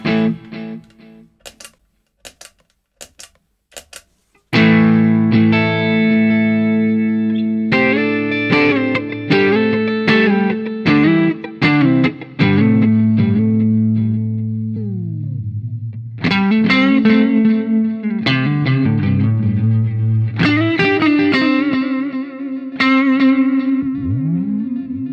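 An electric guitar plays through a delay pedal with tap tempo. A few taps or muted clicks come first, then loud distorted notes and chords ring out with repeating echoes, swells and a warbling pitch bend.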